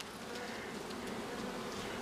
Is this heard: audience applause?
no